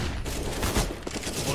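Rapid gunfire bursts crack through a Counter-Strike match, dense overlapping shots filling the short stretch at close range, with faint talk underneath.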